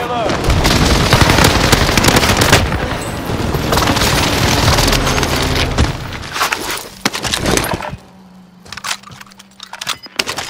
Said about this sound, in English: Enemy precision airstrike, stay alert!